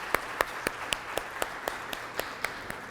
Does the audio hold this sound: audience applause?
yes